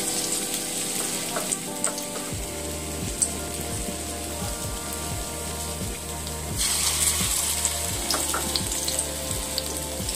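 Cauliflower and malabar spinach pakoras fry in hot oil, a dense crackling sizzle like rain throughout, over a steady low rhythmic hum from about two seconds on, with no one talking.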